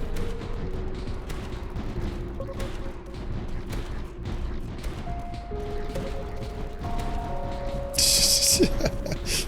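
Rapid gunfire crackles from a defensive tower in Tower Dominion, a fast run of sharp shots over a dense battle din, with a voice talking throughout.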